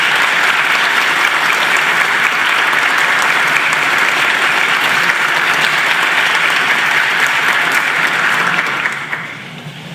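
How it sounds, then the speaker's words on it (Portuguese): A warm round of applause fills a room of lawyers and their families at a Lawyers' Day tribute session, dense, steady and close, then tapering off near the end. "a saudação desta casa através de uma calorosa salva de palmas"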